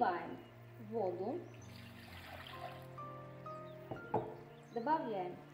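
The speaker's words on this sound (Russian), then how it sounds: "В миску наливаем воду." Water pours into a mixing bowl while puff pastry dough is prepared, a soft trickling stream over steady tonal background sound with voice-like passages.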